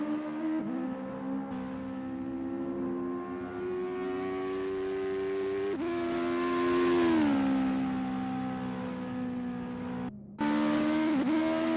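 Legend race cars lapping the Ahvenisto track in a sim racing game on a practice session: a sustained whining engine note that climbs and drops with shifts and corners, close and fairly steady, without speech.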